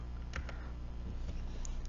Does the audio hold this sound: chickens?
no